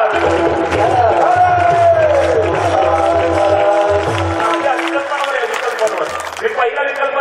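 An audience claps along at a state-level Marathi kirtan festival, a steady wash of applause mixed into loud singing, harmonium-like tones and rhythmic drumming throughout.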